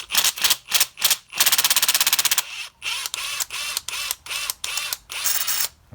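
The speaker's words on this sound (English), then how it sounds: "what I'm going to show you is to remove it with the drill, just to save time" Power drill spinning out a spark plug on a VW Passat 1.8 TSI engine, a close, loud series of short buzzing bursts and a rapid ratcheting run, then longer stuttering whirs, with no talking.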